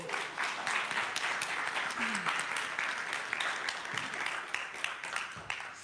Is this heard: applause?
yes